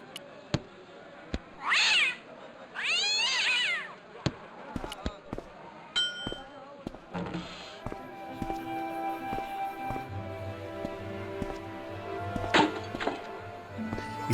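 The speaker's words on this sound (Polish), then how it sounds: "Jak gdybyśmy przestraszyli kota" A startled cat in the video game Broken Sword lets out two loud, drawn-out yowling meows early on, surrounded by sharp clattering knocks and thuds, then a busier stretch of bangs, rattles and a low hum.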